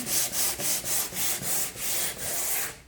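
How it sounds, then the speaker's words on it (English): Rhythmic scraping strokes of sandpaper on primed wooden kitchen cabinets, a light sanding after the final primer coat, about eight even back-and-forth passes, close and steady with no talking. "just doing a light sanding after the last primer coat"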